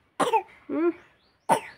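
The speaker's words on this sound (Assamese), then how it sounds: "কাহু কাহু দিছা নেকি" A baby coughs three times in short, rough bursts with brief pauses between them, close and clear against a quiet background.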